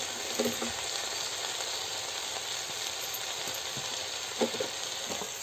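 Jackfruit curry, a Konkan-style vegetable dish just salted, cooks in a pan over a wood-fired clay stove. A steady close sizzle and hiss runs throughout, broken by a few soft scraping stirs.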